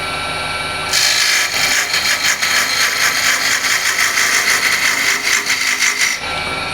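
A hand scraper pulls across exposed wood end grain in a run of quick, rhythmic rasping strokes, close and loud, starting abruptly and stopping just as sharply near the end.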